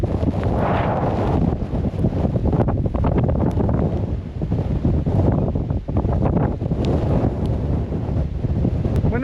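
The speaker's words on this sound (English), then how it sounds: "The wind exceeded expectation." Blizzard wind on Donner Summit roars continuously, buffeting the microphone with heavy, rumbling gusts that never let up.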